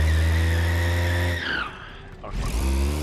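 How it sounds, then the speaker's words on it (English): A car does a burnout in the BeamNG Drive video game, its engine roaring loud and continuous while the tires skid and squeal, the pitch dropping and rising again near the end. "Oh, do a burnout."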